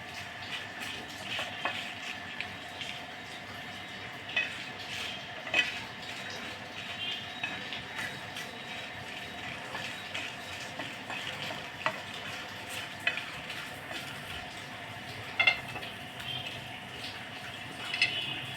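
Bay leaves fry and sizzle in hot oil in a pan for a Bengali kala bhuna, with a steady crackling hiss and light, scattered clinks of stirring, fairly quiet and with no talk.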